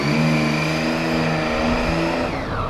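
Triumph Street Triple three-cylinder motorcycle engine on a 2014 ABS model while riding, a close, loud, rising whine with layered harmonics and wind rush, steady then easing off near the end, no talking.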